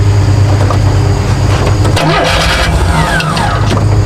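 Pontiac Firebird engine after an injector upgrade runs loud and close, revving with a rough, uneven note as it struggles to settle into an idle, the drone steady throughout with small surges.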